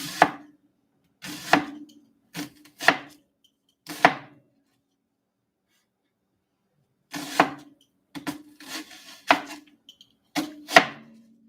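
A knife chops garlic on a cutting board in quick clusters of crisp, close knocks, with a pause of a few seconds in the middle before the chopping resumes.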